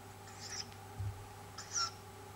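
An owlet calls twice from a moderate distance, two short raspy high-pitched calls spaced about a second apart over a steady low hum, with a brief low thump between them.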